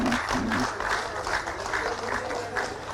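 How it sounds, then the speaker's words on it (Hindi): An audience at a Jharkhand state honour ceremony for athletes, where the Chief Minister presents appointment letters, claps in a dense, sustained burst of applause, with a voice faintly underneath. "तालियां जोरदार होती रहे"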